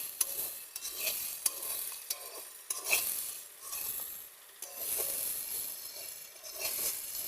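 Chicken meat fries slowly in hot oil in a pan, a steady sizzle running under repeated stirring and scraping of the pieces, close up with no talk.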